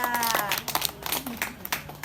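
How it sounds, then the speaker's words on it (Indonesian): A small audience at a community talk on waste sorting and composting gives brief, uneven applause while voices continue over the clapping. "Top, tepuk tangan dong."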